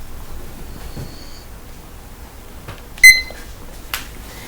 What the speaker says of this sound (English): Hold on, let me turn up my timer.